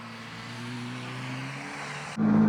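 The Flying Moose race car's engine running steadily at the Little Talledega track, a sustained droning hum that swells to a louder, harsher roar near the end.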